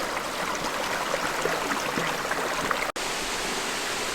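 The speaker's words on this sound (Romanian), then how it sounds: "În sfârșit am ajuns și la cascada adevărată, nu cea micuță de acolo." A large waterfall on the island of Madeira roars as a steady, loud broadband rush of falling water, continuous and close, with no voices over it.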